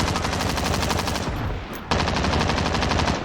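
Rapid sustained automatic fire from an M91 machine gun in Call of Duty Warzone, a dense continuous burst that pauses briefly around the midpoint before hammering on loud and close.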